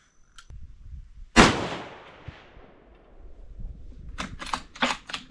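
.308 rifle firing 130-grain hollow-point rounds at a 200-yard target: one loud, sharp report followed by a fading rumble, then a quieter burst of clicks and rustles near the end.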